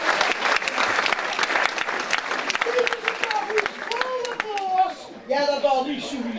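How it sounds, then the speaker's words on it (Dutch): Dense applause from an audience at a Maastricht dialect stage performance, loud at first and then thinning, while a voice speaks over the clapping toward the end. "Applaus."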